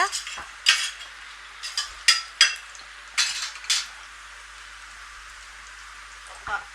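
Onions frying in a pan as they are stirred until brown, with a faint steady sizzle under a series of sharp scraping and clinking spoon strokes, close and irregular, plus a final clank.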